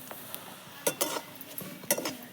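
Vermicelli roasting in a pan with fried raisins for sevai kheer, stirred with a metal spoon that gives sparse, quiet clinks and scrapes against the pan, with a few sharper taps at irregular intervals.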